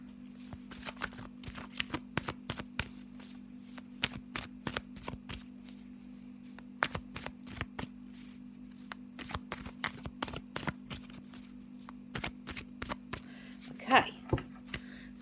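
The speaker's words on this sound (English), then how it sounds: "let's have a little shuffle of our black and white Faulkner deck" Black and white tarot deck shuffled by hand in a quiet room, rapid riffling bursts and soft card slaps repeating in clusters, faint and close.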